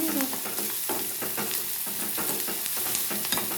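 Food frying in a pan gives a steady, close sizzle, broken by repeated scraping and stirring strokes through the whole stretch, with no talk.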